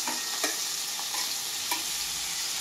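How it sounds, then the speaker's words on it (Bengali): Bottle gourd fries in oil left over from frying fish. A steady, moderate sizzle carries a few scattered spatula clicks over a short stretch. "এবারে এই মাছ ভাজা তেলেই আমি লাউটাও ভাজবো।"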